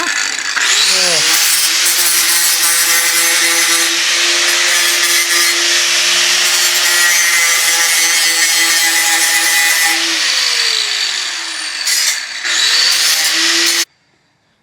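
Power saw cutting through a section of steel exhaust pipe for a Nissan S14 exhaust, a loud, sustained high-pitched whine and grinding rasp running for about thirteen seconds with a brief dip near the end before stopping abruptly.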